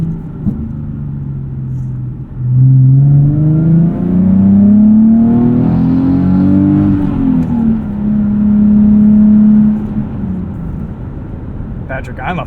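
A 2012 Nissan 370Z sports car's exhaust rumbles steadily as it accelerates, the engine note rising and falling in pitch, close and fairly loud, with a voice briefly audible.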